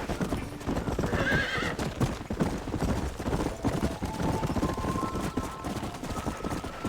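Horse hooves clip-clop steadily in Red Dead Redemption, with whinnying and neighing over the gallop, loud and close, no talking.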